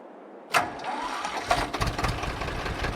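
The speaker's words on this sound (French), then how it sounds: "On va prendre un vieux tracteur, le plus vieux, le plus pourri qu'on puisse trouver." An old, worn-out 31 horsepower tractor engine cranks and fires after a brief quiet moment, then settles into a rough, knocking idle close by.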